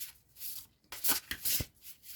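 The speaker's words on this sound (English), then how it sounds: "So I'm just giving them a little shuffle, and we'll just ask for a message from the cards." A deck of oracle cards is shuffled by hand in a few quick riffling bursts, close and fairly soft, with brief pauses between, alone without talk.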